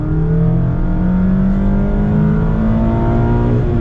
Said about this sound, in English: So we're gonna get our acceleration here on the highway.